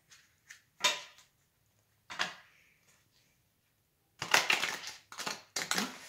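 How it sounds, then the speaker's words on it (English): A deck of tarot cards is shuffled by hand in short bursts, a few brief riffles and taps followed by a longer crisp flurry of cards near the end. "I'll just do 2 shuffles, a cut and a shuffle for both of these decks"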